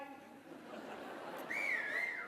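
A single rising and falling wolf whistle cuts through the murmur of an audience at a business awards evening, bright and moderately loud near the end.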